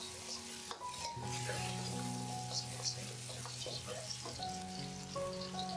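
Minced garlic and chili stir-fried in a smoking-hot wok with oil for a shrimp, chive and dried tofu dish: a steady broad sizzle with scraping and tossing under a voice talking.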